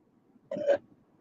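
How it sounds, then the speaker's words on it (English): A child gives a single short burp inside a car, a brief voiced belch of under half a second, close and clear against a quiet background. "You burped while I'm on the air."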